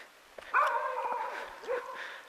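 Dogs bark and yip a few times at a distance, fairly faint, the calls overlapping within a couple of seconds outdoors.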